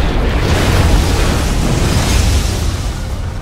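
A StarCraft 2 Eradicator unit blows up in a loud, continuous roaring explosion that fills the whole stretch with dense rumble and crackle.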